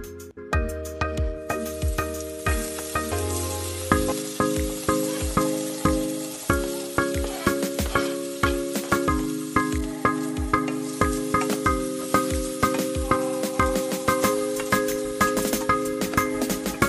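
Tomato and onions fry in avocado oil with a steady sizzle, while regular rhythmic clicks and tonal music run throughout at an even level.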